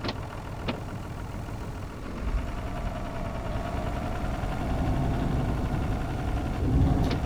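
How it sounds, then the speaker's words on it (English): A low, rumbling old tractor engine idles steadily throughout, with a faint clank or two in the mix. "the sound of this old engine, yeah, it's very nostalgic, very good."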